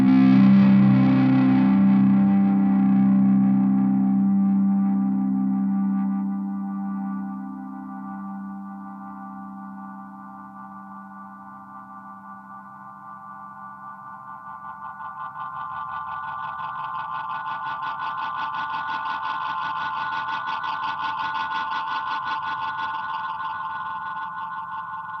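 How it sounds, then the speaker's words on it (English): A Beautiful Noise Effects When The Sun Explodes guitar pedal adding modulation, drive and reverb to sustained guitar chords, with a dense low drone fading out and a shimmering, chorus-like wash swelling up later, played alone without talking. "it's a great sounding pedal. I love the drive sound. I love the reverb."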